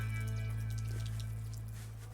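Water gushes from a spigot in Nairiri into a 5-gallon drum, a steady close splashing rush over a low constant hum that fades slightly toward the end.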